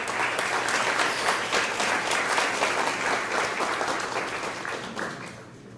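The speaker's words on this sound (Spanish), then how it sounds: "que yo quisiera pedir un aplauso para ellos." An audience at a community culture gathering claps in a full, steady round of applause that holds for several seconds and then tapers off near the end.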